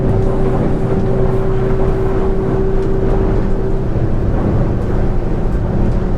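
A cabin boat's engine drones steadily at moderate revs through ocean waves, mixed with rushing water and wave noise, loud and continuous throughout.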